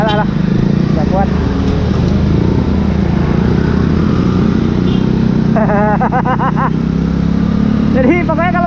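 Honda Little Cub motorcycle climbing a hill in third gear, its small engine droning loud and close with a strained, laboring tone, heavy wind buffeting, and someone talking over it.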